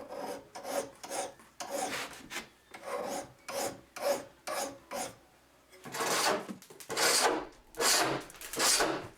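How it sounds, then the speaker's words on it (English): A steel scraper knocking hot glue dots off strip-built wood edges, a rhythmic series of rasping scrapes, about a dozen strokes, close and clear, louder and longer toward the end, with no voices. "Here I'm removing hot glue dots that were used to clamp strip edges together"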